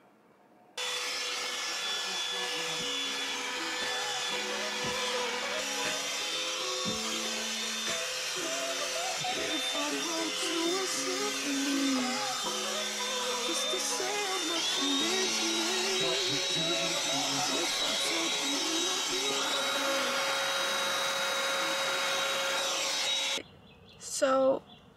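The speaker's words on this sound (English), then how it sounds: "I'm going to be vacuuming the carpet, the seats" A vacuum cleaner cleans the carpet and seats inside a car, a steady, loud, continuous whine and roar that runs almost the whole time, starting and cutting off abruptly with a brief bump near the end.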